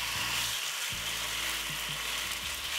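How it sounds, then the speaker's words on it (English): Loud, steady sizzling and crackling of beef steak pan-frying without oil in a hot pan, continuous throughout with no talking. "I'm going to be pan frying the steak now."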